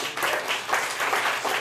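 Applause at a ReactNYC tech meetup, a room of people clapping in a dense, steady wash that swells slightly in waves, moderately loud and close.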